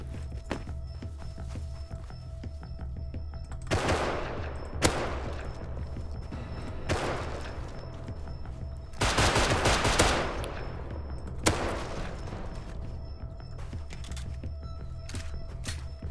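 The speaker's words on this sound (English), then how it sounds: "there's a lot of gunfire over here, boys." Bursts of automatic and single gunfire from the survival video game Rust, loud volleys around 4, 7 and 9–10 seconds over a steady low rumble, with scattered sharper shots in between and no talking.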